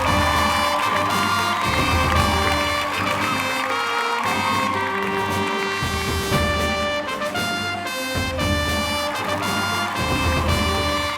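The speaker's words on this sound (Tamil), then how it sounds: "ஒரு மிகப்பெரிய கைத்தட்டல் கொடுக்கலாம்." Loud cheering and whooping from a large crowd at the Ananda Vikatan Cinema Awards ceremony, mixed with applause over a backdrop of sustained music, continuous and full throughout.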